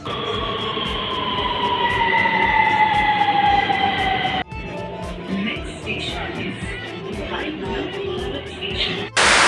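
A metro train hums and whines as its motor tones slide downward, then the sound shifts to a quieter carriage rumble inside the train with faint background chatter.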